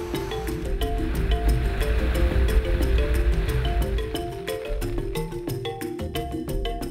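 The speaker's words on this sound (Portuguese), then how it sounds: "Chuva no Kalahari." Rain falls in the Kalahari desert in Botswana as a dense, steady wash of patter. Sharp individual drips and splashes tick irregularly throughout, growing more distinct toward the end.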